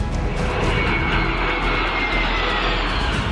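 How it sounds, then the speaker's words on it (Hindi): Indian Air Force jets and helicopters at an air show during the Tarang Shakti 2024 exercise in Jodhpur, a loud continuous roaring aircraft engine drone with no voices. "भारतीय वायुसेना के इन दमदार विमानों और मेड इन इंडिया हेलीकॉप्टर ने हर किसी का मन मोह लिया।"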